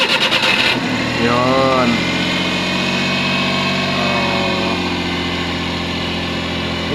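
A Suzuki DA63T truck engine cranks briefly, catches and settles into a loud, steady, close-up idle that hums on to the end, with one short spoken word near the start.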